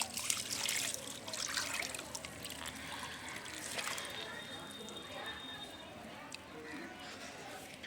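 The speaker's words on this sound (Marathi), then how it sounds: "तर हे आपण अजून आपल्या झाडामध्ये ओतून घेऊया" Water poured by hand onto the soil around a newly planted guava sapling, a close, steady trickle and splash lasting throughout under a faint outdoor hiss.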